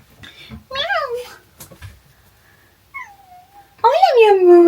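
A pet cat meows several times indoors, with rising and falling cries near the start and a louder, longer meow at the end, mixed with someone talking to it and imitating its meows.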